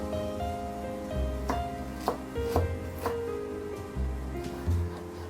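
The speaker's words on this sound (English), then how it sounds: "Then ginger. Also slice ginger." A knife chops and slices ginger on a cutting board, with about eight distinct knocks at an uneven pace over quiet background music.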